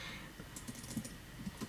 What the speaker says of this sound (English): I'm typing right now, so I'm not going to be speaking.